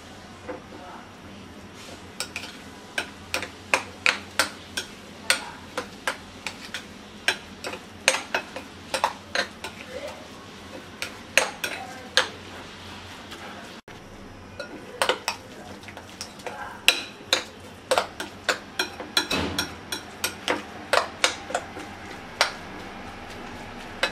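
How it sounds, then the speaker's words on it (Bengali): Spoon repeatedly clinks and scrapes a bowl while egg, salt and white pepper are mixed into a cauliflower pizza crust, with steady close taps in an irregular rhythm over faint room hum. "এবার ভালো করে মিক্স করে নেব।"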